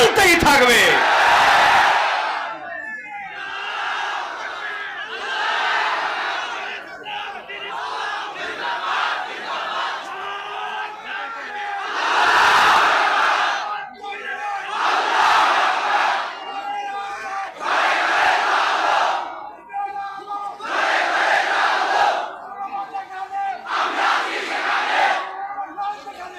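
A large crowd at a big Islamic religious gathering chants Allahu Akbar in repeated loud bursts, roughly every two to three seconds, with a single voice leading between the collective shouts.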